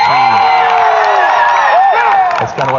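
Church audience cheering for the Army team at an Army versus Navy fun night, a loud sustained crowd of shouts and whoops with children's voices, swelling and then dipping near the end.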